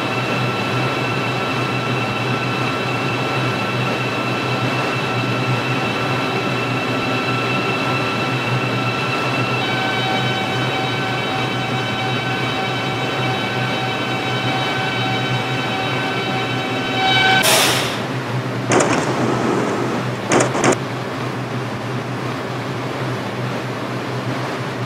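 A New York line 6 local subway train in a mobile simulator game runs at a steady roar with a sustained whine. Near the end come sharp squeals and clunks, like brakes or doors, before the rumble settles again.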